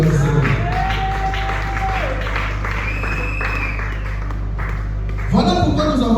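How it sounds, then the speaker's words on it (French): Church congregation applauding and cheering for the glory of the Lord at a sermon, a loud, sustained wash of clapping with crowd voices and a strong low hum underneath. "Est-ce qu'on peut acclamer pour la gloire du Seigneur?"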